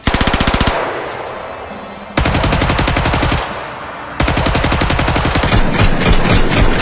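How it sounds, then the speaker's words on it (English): Thompson submachine gun in the video game Sniper Elite 5, fired in three loud, rapid automatic bursts of a few seconds each, separated by brief pauses, with no voices. "So the most exciting gun for me to capture is probably the Thompson."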